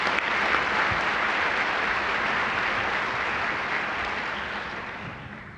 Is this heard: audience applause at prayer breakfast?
yes